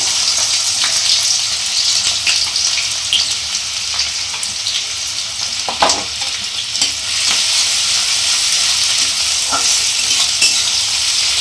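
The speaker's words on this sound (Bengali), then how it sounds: "এটাই পেঁয়াজ কুচি দিয়ে দিলাম।" Chopped onion sizzles steadily in hot white oil in a wok, a dense continuous frying hiss with scattered pops and occasional scraping stirs, close and loud throughout with no talking.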